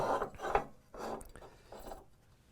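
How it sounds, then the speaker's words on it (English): Fence on a DeWalt DWS715 12-inch single-bevel compound miter saw being loosened and slid over, giving a few soft rasping scrapes and rubs, close and quiet with no talk. "So you just loosen it, then you can pull it right over."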